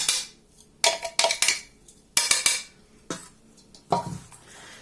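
Oat cookie ingredients, including ground oats and a pinch of salt, being stirred in a bowl, with a series of distinct clinks and scrapes of a utensil against the dish in short bursts, fairly close.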